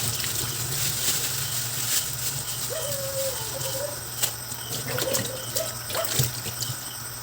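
Food is rinsed under a running tap, with a steady nearby stream of water, splashing and trickling, and occasional light knocks over about seven seconds, with no one talking.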